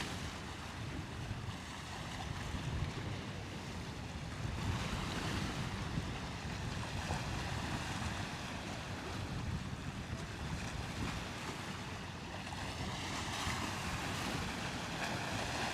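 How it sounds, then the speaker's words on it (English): Ocean waves breaking against rocks along the waterfront at Governors Island, New York City, a constant loud wash of surf with wind rumbling across the microphone and no voices. "please enjoy the sound of the waves on hitting the rocks"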